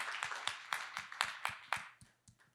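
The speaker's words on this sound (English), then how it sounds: "Like a round of applause to all of you." An audience claps in a steady, even rhythm, the faint claps coming a few times per second and tapering off at the end.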